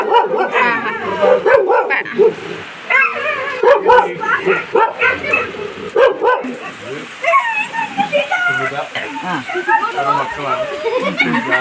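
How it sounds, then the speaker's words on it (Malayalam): Dogs bark and yip intermittently in the background while people talk over them close by. "ഇവിടെ കുറേ പട്ടിയൊക്കെ ഉണ്ട് കേട്ടോ"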